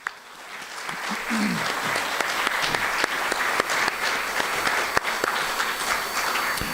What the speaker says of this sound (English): allow us to give you one well-deserved big round of applause